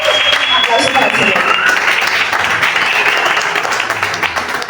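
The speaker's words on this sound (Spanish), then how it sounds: "Aplauso para el Señor." A church congregation claps during a worship service, a loud, steady burst of applause mixed with cheering voices that tapers slightly toward the end.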